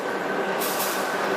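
Inside a moving passenger train in Sri Lanka, a steady close rumble and rattle of the carriage runs throughout, with a brief brighter hiss swelling midway; no one speaks.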